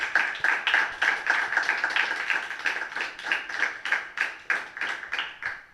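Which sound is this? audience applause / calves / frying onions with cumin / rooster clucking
audience applause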